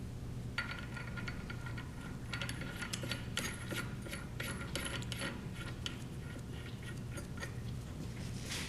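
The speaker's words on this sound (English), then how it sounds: "we would take a wrench like this, or a regular open box end wrench, and start snugging the bolts" Wrench tightening the bolts on an Armour valve during a Camseal cartridge replacement, a quiet run of rapid ratchet clicks and metallic ticks in short bursts, close up with no talk.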